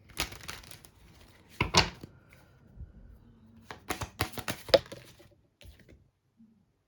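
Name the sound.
shuffling Scorpio Moon intuition cards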